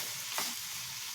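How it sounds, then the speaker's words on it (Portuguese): Broccoli cooking in a pan for a home-style Sunday lunch gives a steady, soft sizzle with a brief stir or scrape near the start, close and alone without talk. "O brócolis precisa cozinhar."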